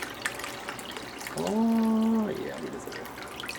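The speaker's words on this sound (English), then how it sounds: "I'll just add water" Cool water poured into a pan of vegan bolognese, a brief pouring splash with a rising tone, while a person speaks just before it.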